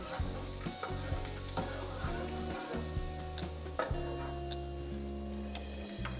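Butter sizzles in a pan with browning pork chops and scallion bulbs, a steady close frying hiss under low humming tones, with occasional clicks and utensil taps throughout and no speech.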